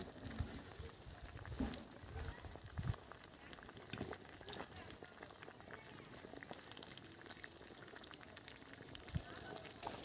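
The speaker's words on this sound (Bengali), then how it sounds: "ঝোল ফুটছে" Fish curry broth at a rolling boil in a pot as fresh spinach is added, a quiet continuous bubbling and simmering hiss with a few soft splashes and clunks, faint and close.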